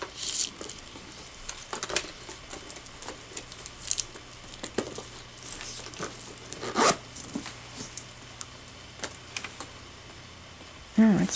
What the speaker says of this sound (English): And then it has the braided zipper pull.